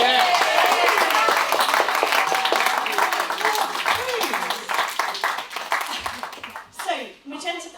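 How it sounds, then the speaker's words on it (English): Audience applause at a Firefly class sailing prizegiving, a dense steady clatter of many hands that fades toward the end as a voice cuts in. "Can we just have a round of applause again?"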